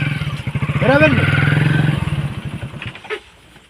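A motorcycle engine putters with a quick, even chugging beat for a few seconds while someone talks over it, then it fades out.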